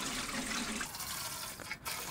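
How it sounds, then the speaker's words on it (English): Water pours steadily into a roaster oven for beeswax rendering, a continuous splashing fill that holds for most of the moment before tapering off. "put a little bit of water in your"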